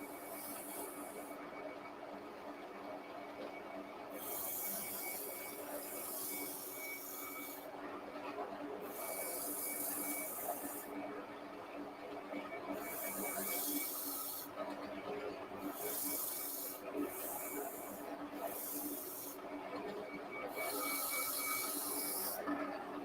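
Abrasive 80-grit sandpaper pressed against wood spinning on a running lathe, a steady rasping hiss that swells in repeated bursts over the constant hum of the machine, close and fairly loud, with no talking.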